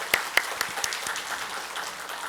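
Congregation in a Korean Presbyterian church applauding its choir during Sunday worship, a loose, moderately loud round of clapping with a few sharp individual claps standing out at the start before settling into a softer patter.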